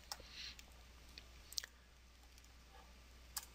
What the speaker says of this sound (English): So I will select them, click on loop